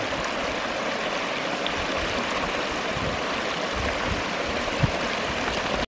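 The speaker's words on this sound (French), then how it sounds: "avec le bruit de l'eau qui descend là" A mountain river runs downhill past fir trees, a steady, full rushing and burbling of water that stays even and close with no voices.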